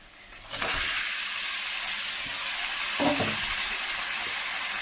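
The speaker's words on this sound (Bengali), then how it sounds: "এখন ম্যারিনেট করে মাংসটা দিয়ে দেবো।" Marinated chicken goes into hot oil with fried onions and crackles into a loud, steady sizzle that starts abruptly and holds. A brief stirring scrape cuts in partway, and no one speaks.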